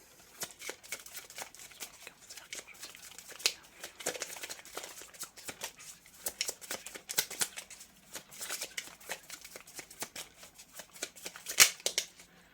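Tarot cards being shuffled, a steady run of soft riffling and flicking card sounds with irregular bursts and pauses, close and fairly quiet, with no talking.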